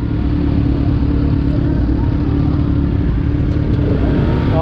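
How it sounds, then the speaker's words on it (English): Kawasaki Rouser RS200 2020 motorcycle engine on a test ride, a loud steady droning engine with wind rumble close to the microphone, continuous throughout. "test ride na natin tong Kawasaki Rouser RS200 2020 model"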